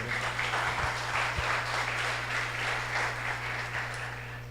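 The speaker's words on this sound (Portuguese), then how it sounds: "Dê um aplauso ao Senhor" A church congregation applauds the Lord during a Portuguese-language sermon; soft, fairly distant clapping rolls along in uneven swells over a steady low electrical hum, tapering off at the end.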